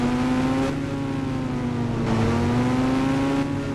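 Video game car driving, its engine droning and revving steadily with a few abrupt cuts, loud and alone without talk.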